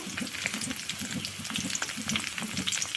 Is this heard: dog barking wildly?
no